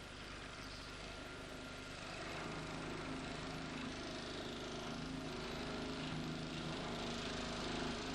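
A nibbler figure-cutting a metal workpiece guided along a template or scribed contour, a steady loud mechanical buzz with a fast chattering rhythm that continues unbroken throughout.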